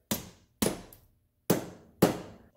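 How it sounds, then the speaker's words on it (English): A hammer drives a CV shaft into the transmission of a 2006 Subaru Outback, four sharp metallic blows at an uneven pace, close and loud, each ringing briefly before fading. "and then begin hammering."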